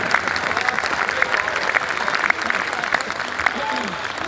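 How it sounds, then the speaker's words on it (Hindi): A rally crowd breaks into steady applause, a broad wash of many hands clapping that continues for several seconds, with faint voices mixed in beneath it. "एक बार तालियां बजाएं।"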